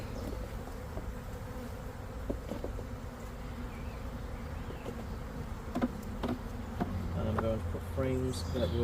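A honey bee swarm that has moved into stored hive frames and boxes hums steadily, a dense buzzing that swells toward the end with a few louder passes from nearby bees.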